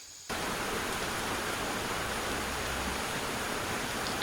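Steady rain hiss rushes in after a brief quiet start and holds even and dense throughout, like a downpour on a surface, with no voices.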